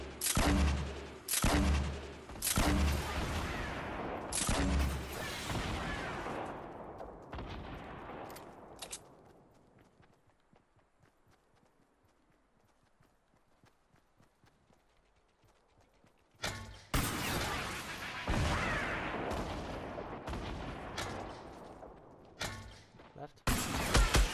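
Grenade launcher fire in Fortnite: a rapid string of loud booming shots and explosions, then a long quiet stretch before another heavy run of blasts, with players talking excitedly between bursts.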